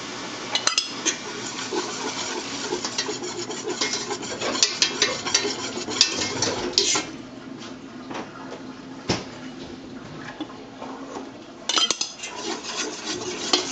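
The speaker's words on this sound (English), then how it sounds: "we're going to just stir this until the flour is absorbed." Flour being stirred into a mixture in a pan on medium heat, a spoon scraping and clinking against the pan in a busy, continuous rhythm with brief pauses, close and fairly loud, no talking.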